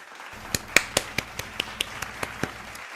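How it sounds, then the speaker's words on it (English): A handful of sharp, isolated claps ring out for a podcast guest, about a dozen quick, evenly spaced hits over a couple of seconds, close and dry with no voices. "Jay, let me get you a round of applause as well."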